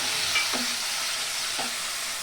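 Spice masala of ground coriander, cumin and chilli powder with a little water being stir-fried in a pan for egg and soyabean curry, a steady sizzle with two soft scrapes of the spoon, close and without talk.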